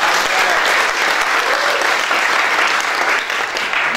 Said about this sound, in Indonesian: Tepuk tangan lagi buat.